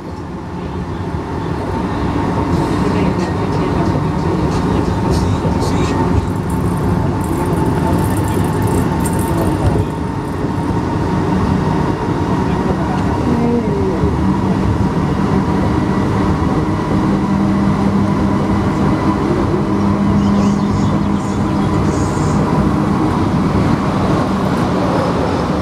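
A Santiago Metro NS-16 train on the green line travelling between stations toward Vicente Valdés, a steady loud rumble and roar of wheels and motors heard from inside, continuous throughout with no voices.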